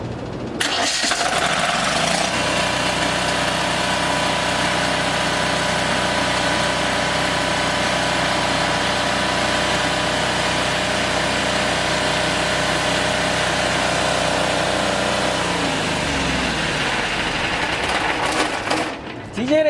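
A Powergen OK10000DE diesel generator cranks, catches and settles into a loud, steady diesel drone close by, holding an even tone for about fifteen seconds before winding down at the end.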